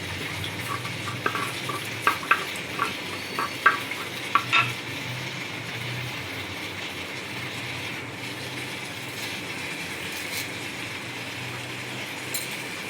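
Ghee melts and sizzles in a pan for a chicken dish while a spoon stirs, giving a few scraping clicks early on over a soft, steady frying hiss.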